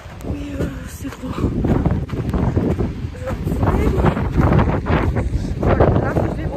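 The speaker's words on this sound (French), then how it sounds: "il fait du vent, il pleut, c'est horrible" Strong gusty wind with rain at a ski resort, buffeting the microphone, a constant low roar with bursts, while a voice talks intermittently underneath.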